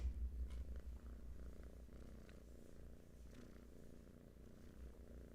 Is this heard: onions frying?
no